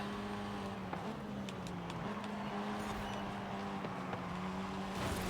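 A car engine in Forza Horizon 5 holds a steady, moderately loud drone, rising briefly with gear shifts, continuous and without talk.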